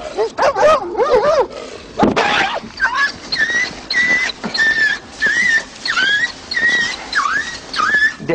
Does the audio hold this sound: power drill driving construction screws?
no